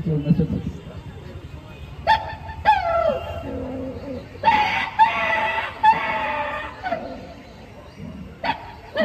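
A performer's voice imitates a dog barking in a series of short, loud, separated barks with brief pauses between them, sounding close and alone.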